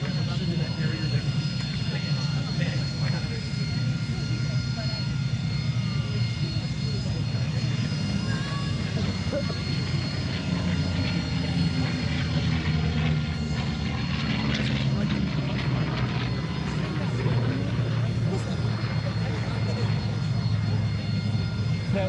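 A jet aircraft passes at a military airshow at MCAS Cherry Point, its steady engine roar filling the scene with a loud, sustained rumble that swells and shifts over twenty seconds while spectators talk nearby.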